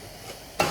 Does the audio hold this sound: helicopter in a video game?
no